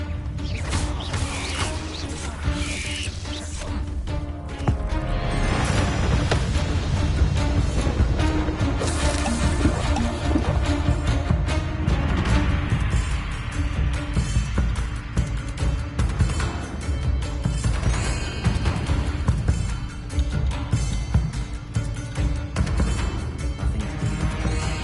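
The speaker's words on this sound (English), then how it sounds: "The waterfall." A waterfall in Hogwarts Legacy rushes in a dense, continuous roar, heavy and close, layered with game music and occasional creaks and clanks, with no talk.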